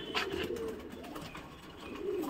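Pigeons coo softly in a loft, with low repeated calls over a steady background.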